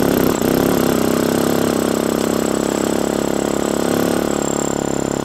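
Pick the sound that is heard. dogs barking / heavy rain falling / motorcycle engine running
motorcycle engine running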